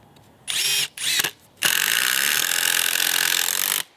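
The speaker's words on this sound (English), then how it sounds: "we can screw it in real quick just like that" An impact driver drives a deck screw into a board, two short bursts followed by a longer continuous rattling run of rapid hammering, loud and close with no talking.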